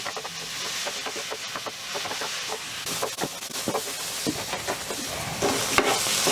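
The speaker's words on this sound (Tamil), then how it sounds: "இப்போ வெங்காயத்தை போட்டுக்கலாம்" Chopped onions fry with cumin seeds in a kadai for a dhaba-style kadai chicken, giving a steady close sizzle broken by repeated scraping stirs of the spatula against the pan, with no voices.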